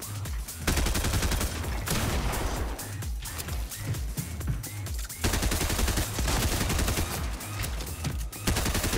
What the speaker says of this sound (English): Oh, I just got shot in the back.